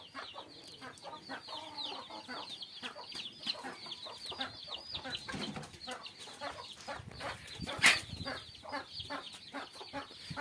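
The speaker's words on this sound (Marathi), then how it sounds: "इकडं कोंबडीनं पिल्लं पण काढले का पिल्ल आहे" A hen clucks softly and repeatedly to her chicks, their high, thin peeping mixed in, over a busy outdoor farm background with a tractor running.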